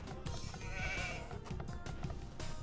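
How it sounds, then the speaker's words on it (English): Sheep bleat in the Age of Empires II video game, a wavering, nasal bleat rising over a busy bed of game ambience and clicks, clear and moderately loud, with no talking. "You want those sheep to go over there."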